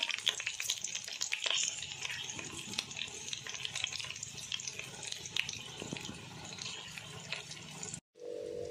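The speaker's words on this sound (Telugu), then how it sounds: "ఇప్పుడైతే మిరపకాయలు పావు కేజీ నెయ్యి, మిరపకాయలు వేసుకుంటున్నాను." Green chillies sizzling in hot oil and ghee, a steady dense crackling hiss with sharp spattering pops, close and loud, cutting off abruptly near the end.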